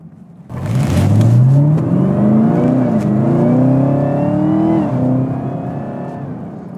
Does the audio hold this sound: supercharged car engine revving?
yes